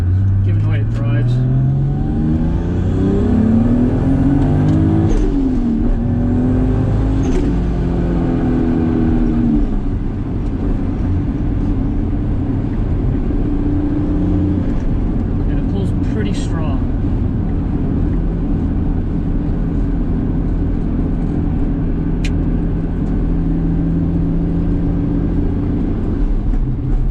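A turbocharged car with a new downpipe and cat accelerates, its engine note climbing through gears with rising revs, then settles into a loud, steady cabin drone with wind noise. A voice talks over it.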